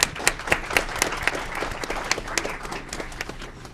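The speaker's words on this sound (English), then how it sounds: "if we'll give her a round of applause on these two appointments" A modest round of applause at a city council meeting for two appointments, scattered individual claps from a small room, fairly quiet and steady throughout.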